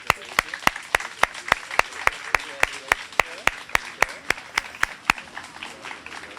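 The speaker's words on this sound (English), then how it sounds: "Let's give them a round of applause as well." Applause at a junior police academy graduation, dominated by one nearby pair of hands clapping in a loud steady rhythm over softer scattered clapping from the crowd, fading toward the end.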